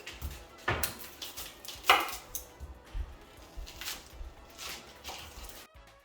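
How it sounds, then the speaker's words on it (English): Kitchen knife chops onions on a cutting board in a series of irregular, close taps and thuds, some sharper strikes standing out, with no talk. "you can go ahead and chop up your onions."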